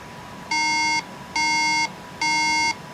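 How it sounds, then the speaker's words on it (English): A MacBook Air with a RAM fault emits three identical electronic beeps at startup, evenly spaced and loud against a faint background hiss. "it does not boot up, but rather just gives the 3-beep RAM error code"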